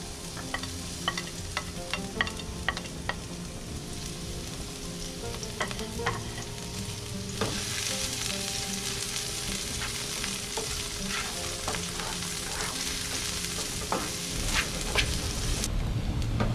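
Garlic, spring onion and turmeric fry in a pan, a steady loud sizzle with scattered stirring scrapes and clicks, intensifying midway and continuing without any talk.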